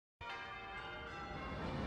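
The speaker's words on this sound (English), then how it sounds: "These bells used to be heard all over town." Church bells ring out with a sudden onset and then sustain, a rich, resonant metallic tone that holds steady and fairly loud without any voices.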